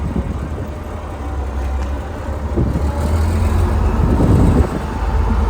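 An International Harvester 1466 tractor idles and runs with a straight pipe exhaust, a loud, steady diesel rumble with a rising surge near the end.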